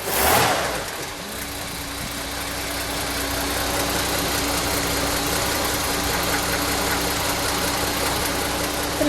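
A 1951 Hudson Hornet tribute car with a nearly new engine catches with a loud burst on starting, then settles into a steady, even idle with a low rumbling hum that holds close and constant.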